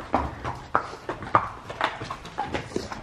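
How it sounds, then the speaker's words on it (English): Horse hooves clip-clop at a steady, quickening rhythm, close and clear, with about five distinct strikes in three seconds, during a camping trip with horses. "the horse there just sped up right now."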